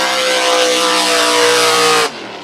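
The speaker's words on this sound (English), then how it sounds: "Gee, that boat sounds strong, Mick." A loud, high-revving Dodge engine in a blown race boat roars steadily at close range, then cuts off abruptly near the end.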